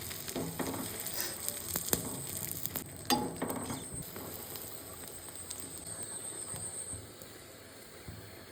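Egg roti frying in a pan, steady sizzling and crackling of oil with scattered spatters and a few scraping stir sounds early on, easing to a quieter continuous sizzle toward the end.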